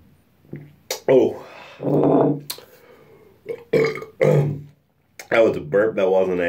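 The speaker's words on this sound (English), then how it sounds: "That was a burp." A man burps several times in a bathroom after drinking beer, loud close croaking belches in separate bursts, some stretched out, with a few short vocal sounds between them.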